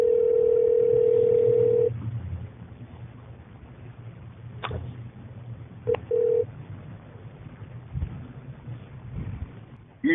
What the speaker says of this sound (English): we'll take you to the phone call